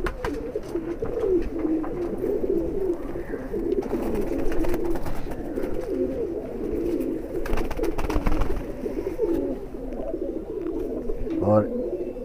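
A male high flyer pigeon coos softly and repeatedly, low rounded calls close by over a steady rustling background, with a person talking at times.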